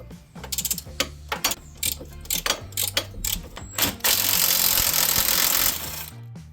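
A breaker bar and socket work on a 9/16 control arm bolt on a Polaris, giving a run of close, sharp ratcheting clicks followed by a loud sustained grinding whir near the end.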